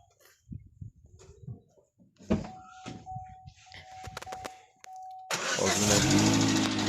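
A car engine being started after a cylinder head repair: scattered clicks and clatter, a steady tone, then the engine catches and roars into a loud, continuous run for the last two seconds.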